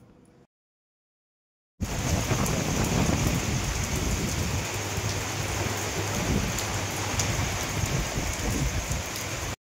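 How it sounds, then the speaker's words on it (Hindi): Heavy rain pours down in a steady, dense roar, loud and close, after a brief silence at the start, with no voices over it. "आज बारिश देख सकते कितनी झमाझम हो रही है"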